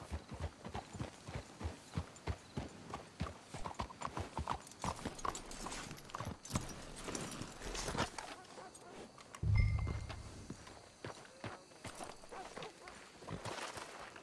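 Horses walk on a trail in the PS4 video game Red Dead Redemption 2, their steady clip-clop hoofbeats rolling along in an even rhythm at moderate distance, with a soft low thud partway through.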